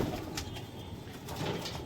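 A desi high-flyer pigeon coos softly, a few low repeated coos close by, quiet and alone.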